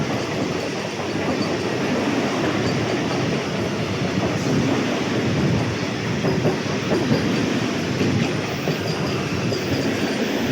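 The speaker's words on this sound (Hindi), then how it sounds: "तो ये जा रही है वंदे भारत एक्सप्रेस।" A Vande Bharat Express rushes past, heard from another moving train near Kanpur, as a steady loud roar of wheels and rail noise with faint rhythmic clatter throughout.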